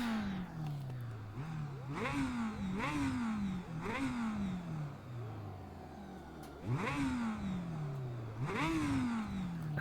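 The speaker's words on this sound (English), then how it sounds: "I think we've got engine sound" A historic Formula 2 racing car engine in a racing video game at Spa-Francorchamps revs hard through repeated gear shifts, each rising whine dropping sharply before climbing again, loud and continuous with no voices.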